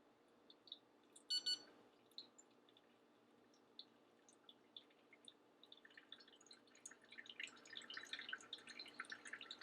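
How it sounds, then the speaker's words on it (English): A coffee scale set to the wrong mode gives a brief double electronic beep early on, with faint scattered blips afterward. Soft water drips and trickles from a pour-over brew run underneath and grow busier toward the end. "Ignore the beeping noise on the scale because I accidentally set it to the wrong mode"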